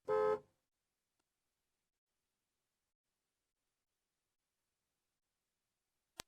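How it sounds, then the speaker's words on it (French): One short, loud car horn honk at the start, given as a warning on a narrow two-way road near a hilltop, followed by near silence and a faint click at the end. "je klaxonne brièvement pour signaler ma présence"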